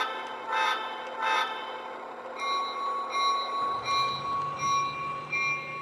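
A Lionel LionChief U36-B model train rolls steadily along its track with a continuous mechanical hum, joined by a sustained tonal whine and a few soft toots.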